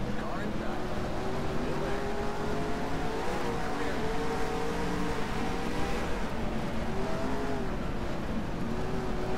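Dirt late model race car engines in the NR2003 racing game drone continuously at steady, loud volume, their pitch rising and falling slightly as the cars circle the Fonda Speedway track.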